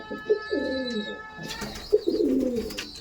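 Kalanka pigeons in a home loft coo twice, each a low rolling burble rising and falling, close by over a faint steady electrical hum.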